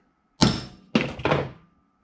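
A hammer taps a chisel held against a vehicle dipstick to scribe a mark, giving two sharp, close metallic thunks about half a second apart, each ringing briefly before fading, with no talk.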